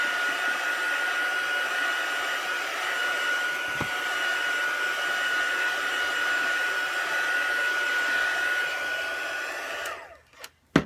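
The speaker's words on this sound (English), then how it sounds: "I'm gonna zap it with my heat gun here" A heat gun blows steadily for about ten seconds as it dries a layer of Oatmeal Cookie acrylic paint, a loud, even whooshing hum with a thin whine, cutting off abruptly near the end with a couple of clicks.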